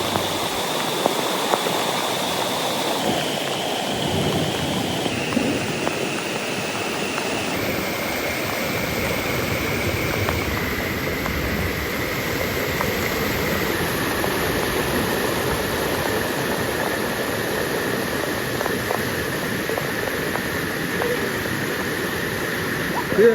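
Water pours steadily at Meenmutti waterfall in Kallar, a constant broad rushing roar heard close, with a faint high tone that steps downward in pitch over it and no voices.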